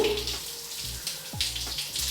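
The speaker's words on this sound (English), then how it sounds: "After breakfast, I head to the bathroom, brush my teeth, and have a cold shower." Water from a cold shower in a home bathroom runs steadily in a close, hissing spray, with low thumps and shifting splashes as something moves through the stream.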